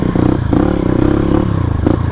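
Supermoto motorcycle ridden off-road on a mountain trail toward Puncak Upas, Tangkuban Parahu, its engine droning steadily up close with rattling, clattering chassis noise and brief throttle swells.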